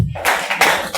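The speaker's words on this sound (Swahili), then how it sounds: "Mpigeni makofi." Clapping from a group at a church Sunday school talent show, three short bursts of hand claps in quick succession, close and fairly loud.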